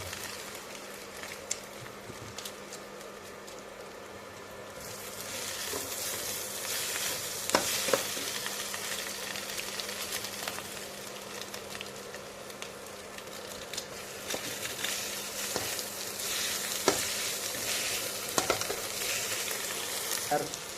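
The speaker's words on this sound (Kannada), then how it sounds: "ಚೆನ್ನಾಗಿ ಮಿಕ್ಸ್ ಮಾಡಿ. ಮೊಟ್ಟೆ ಚೆನ್ನಾಗಿ ಬೆಂದಮೇಲೆ ಈಗ ಮ್ಯಾಗಿ ಮಸಾಲೆನ ಹಾಕಿ" Egg and Maggi masala frying in a pan while being stirred, a steady broadband sizzle with scraping utensil strokes and occasional sharper taps throughout, close and continuous with no talking.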